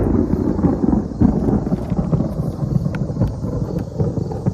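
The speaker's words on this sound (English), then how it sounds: "That was a major lightning strike." Thunder rolling after a major lightning strike, a loud continuous low rumble that swells and churns for several seconds with no voices over it.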